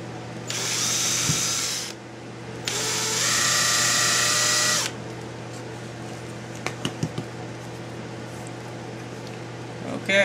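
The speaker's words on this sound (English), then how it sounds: "I got my holes drilled" A small power drill bores holes in a vinyl knife sheath in two loud whining bursts of a few seconds each, close by. Afterwards come quieter handling clicks over a low steady hum.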